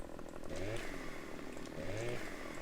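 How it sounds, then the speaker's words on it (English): A chainsaw idling and revving in Farming Simulator 15 while clearing fallen branches, a steady buzzing drone with two rising rev swells, moderately loud and continuous. "probably not advisable to be jumping around with the chainsaw"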